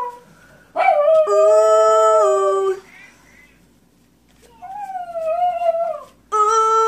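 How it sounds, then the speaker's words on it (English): A Chihuahua howling nearby: two loud sustained howls with a lower wavering howl between them, then a new howl starting, clear and close with little background. "That's my dog."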